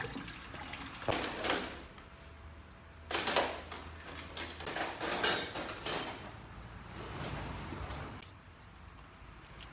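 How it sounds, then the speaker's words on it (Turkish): Engine coolant with antifreeze drains from a car into a bucket during a piston ring repair, with splashing, trickling bursts of liquid and metallic clanks of the bucket, close and irregular. "Görmüş olduğunuz gibi suyumuzu boşaltıyoruz antifriz varmış."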